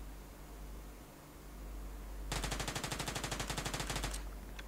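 Rapid automatic gunfire in the PUBG battle royale video game cuts in abruptly as a loud, tightly spaced burst of shots lasting about two seconds, then stops.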